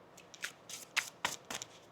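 Deck of tarot cards being shuffled up close, in a quick series of soft, crisp riffles and flicks in a quiet room, with no talking.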